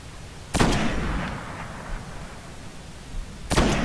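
Gunfire in the video game Destiny, two sharp loud shots about three seconds apart with a ringing decay and a low background rumble between them.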